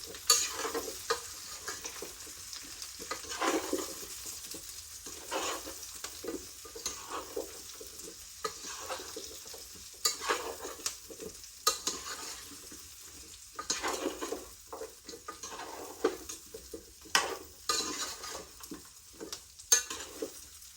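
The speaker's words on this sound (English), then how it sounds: "that's when you throw your vegetables in. And give them a good toss." Winter vegetables sizzle in rendered bacon fat, crackling steadily in a pan with repeated scraping tosses and stirs in an irregular rhythm, close but moderately quiet, with no talking.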